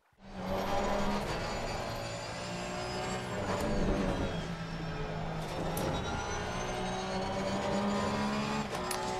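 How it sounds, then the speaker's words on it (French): Porsche GT3 race car on a dry daytime lap in Assetto Corsa Competizione, a continuous engine roar with gear changes and rising, falling revs, heard alone. "on est donc parti pour ce tour sur temps sec de jour pour voir avec la Porsche ce que ça donne"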